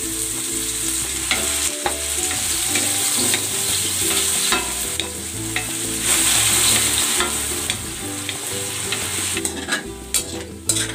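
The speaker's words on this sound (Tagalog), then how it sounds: "Ipiprito ko muna itong carrots at ang patatas." Carrots and potatoes frying in cooking oil in a pan, a steady dense sizzle with stirring and scraping clinks throughout, with no talk.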